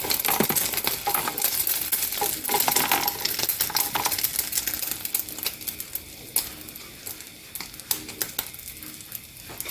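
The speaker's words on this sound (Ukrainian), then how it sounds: "Смажуємо на олії." Steady crackling and popping of battered minced meat frying in hot oil in a pan, with a few sharp clicks from the pan or a utensil.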